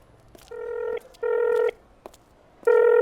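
A telephone rings for an incoming call in three loud, even electronic bursts with short gaps between them, heard clearly with no talking over them.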